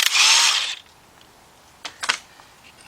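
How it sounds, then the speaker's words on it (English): A half-inch drive cordless impact wrench spins off the center bolt of a harmonic balancer on a Chrysler Sebring 300 Dodge Avenger Charger engine in one loud, close, high-pitched burst under a second long, followed by faint clinks. "what you're going to need is a 21mm deep half-inch drive with your half-inch drive cordless impact or air ratchet"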